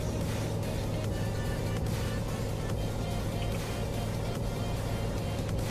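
Truck engine in Euro Truck Simulator 2 holding a steady, dense, loud drone as it accelerates at high speed, continuous throughout with no talking.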